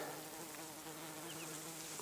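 Honeybees buzz steadily and faintly outdoors over meadow flowers, a continuous soft drone with no voices.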